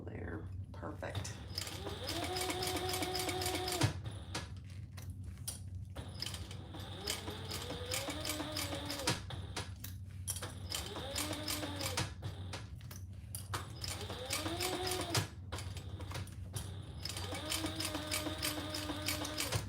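A sewing machine stitches through ostrich-textured vinyl for a bag in short, rapid motor bursts separated by pauses, close-up, while someone talks quietly over much of it.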